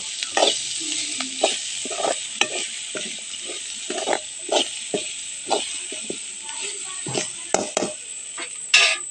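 Grated coconut being sautéed in a pan, with steady frying sizzle and repeated scraping strokes of a spoon or spatula stirring it, close and moderately loud throughout.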